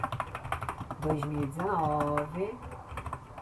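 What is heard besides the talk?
typing on computer keyboard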